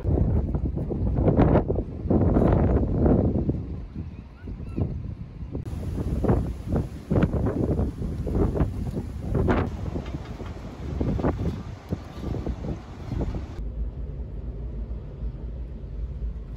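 Strong winter wind buffets a canal boat, with a loud, gusty rumble of wind noise hitting the microphone throughout and low roaring swells, while no one speaks.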